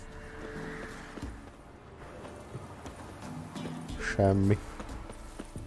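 Hooves of the horse Roach clip-clopping in The Witcher 3 video game, a steady walking rhythm under a brief spoken word and game ambience, with a short loud tonal burst near the end.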